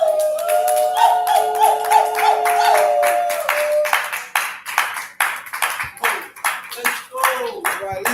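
Live audience at an Atlanta poetry event clapping in loose bursts, near and fairly loud, with chimes ringing early on and a host speaking over the claps.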